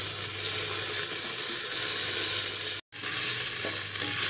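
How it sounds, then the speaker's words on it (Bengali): Raw rice frying in a pressure cooker gives a loud, dense, unbroken sizzle up close, cut by a brief moment of silence near the end before the hiss resumes. "চালটাকে আমি বেশিক্ষণ ভাজবো না, দূর থেকে 1 থেকে 2 মিনিট ভাজবো"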